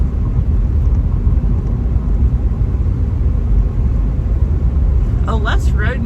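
Inside a pickup truck cruising at interstate speed, a low steady road rumble and tire drone fills the cab, with a brief voice near the end.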